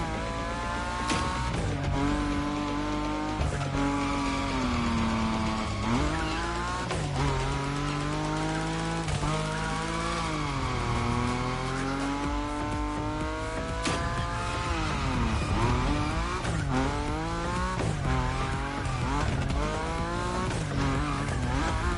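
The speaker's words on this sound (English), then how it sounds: "Your Nismo is powerful enough to slide along on its own when you're at high speed" A Nissan Nismo drifts at high speed in The Crew Motorfest, its engine wailing and sweeping up and down in pitch through long slides, loud and steady throughout with a possible undertone of tire squeal.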